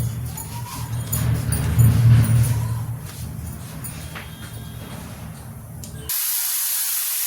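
Cumin seeds dropped into a hot pan for a Singhada kadhi fasting recipe give a sharp hissing sizzle with low rumbling underneath, easing into a thinner hiss before a sudden bright spray-like burst near the end.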